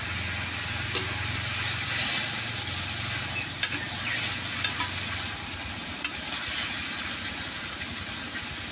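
Water fig pickle with sugar stirred in a pan, with a soft, steady sizzle and a few distinct clicks and scrapes of the spoon against the pan, fairly quiet over a low background hum.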